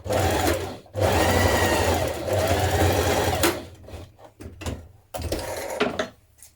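A sewing machine stitches a shirt facing along the bottom edge, loud close bursts of fast whirring broken by short stops and clunks, ending in choppier stop-start runs.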